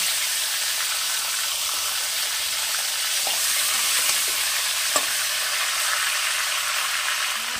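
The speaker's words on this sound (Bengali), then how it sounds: "মাছের মাথাটা একদম কড়া করে আমি ভেজে রাখবো" A fish head, salted and coated with turmeric, frying crisp in hot oil, producing a steady loud hissing sizzle throughout with a couple of faint clicks, and no talking.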